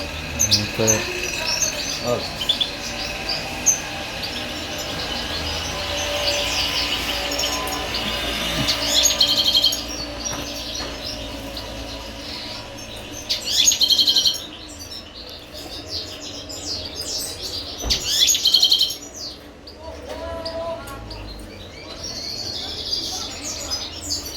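Goldfinches sing in bright, rapid twittering trills over a steady hum of insects, with louder bursts of song now and then and a faint murmur of talk in the background.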